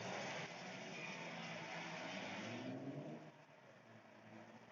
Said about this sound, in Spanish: este es el sonido de los auriculares con mucho sonido de tráfico